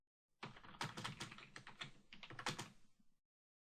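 Quick, close typing on a computer keyboard, with a burst of key clicks for about three seconds before it stops, rendered alone with no talk.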